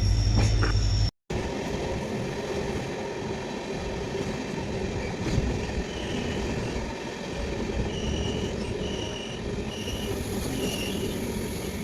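A superfast passenger train bound for Howrah runs along the track just after pulling out, giving a continuous rolling rumble with metallic wheel squeals, heard from on board after a short cut at the start.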